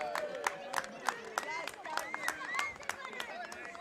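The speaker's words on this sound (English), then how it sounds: "Can we get a cheer for Vice versa on his hamstring?" Crowd at a Division 12 reserves State of Origin football match clapping and cheering, with sharp irregular claps ringing out over a murmur of voices.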